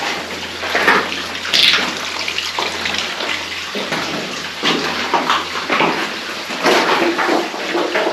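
Water pours and splashes steadily in an echoing underground passage on a wet, rainy day, a constant rushing waterfall cascade with uneven bursts, close and fairly loud.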